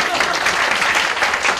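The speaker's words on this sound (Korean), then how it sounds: "자, 박수 한번 하겠습니다." Audience applause at a church or mission talk, a brief full burst of many people clapping continuously, close and steady.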